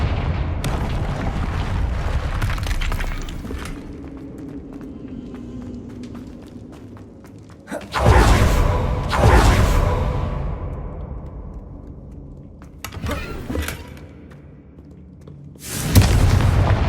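Confringo blasting spells go off in the Hogwarts Legacy video game: three loud, booming explosions land several seconds apart. Each one rumbles away into quieter ambience before the next burst.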